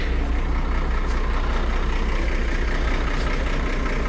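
A truck engine runs steadily, loud and close, a continuous low rumble with broadband noise and no talk.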